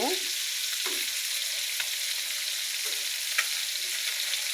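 Chapila fish sizzling steadily in a hot frying pan, with a few short scraping clatters as pieces are flipped over; no one speaks.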